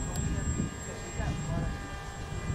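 A Cessna 182 RC model plane, a 1200mm EPO kit with severe vibrations, drones through a low pass at steady loudness, with a low engine buzz and a constant high whine and faint talk underneath.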